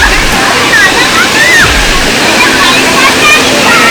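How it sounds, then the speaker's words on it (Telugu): Water rushes loudly and continuously at Jalatharanguni waterfall in Meredumilli, a dense, close roar with sloshing near the listener and faint bird calls above it. "వాటర్ ఫాల్ క్రాసింగ్ ఇది అవతలకి వెళ్ళడానికి"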